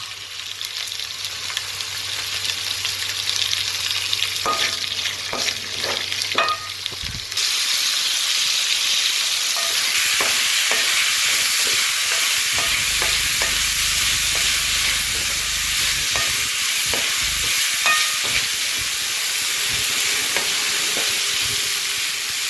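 Dried fish curry, village-style karuvadu kolambu, fries in a pan while being stirred, a continuous loud sizzle and hiss broken by repeated spoon scrapes and clinks against the pan, with a low hum in places.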